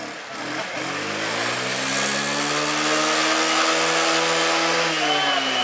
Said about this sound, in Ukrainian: Опа, в нас є Скутер Вайпер. Будь ласка, газу!